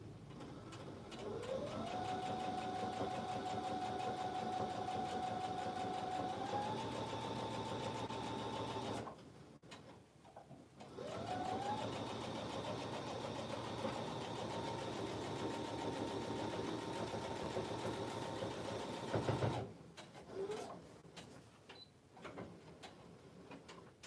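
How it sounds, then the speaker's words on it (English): A sewing machine edge stitches a quilted placemat with a steady, close mechanical hum. It runs in two long passes, each ending in a short pause. "I'm ready to do the exact same thing, just edge stitch, lock stitch when I start."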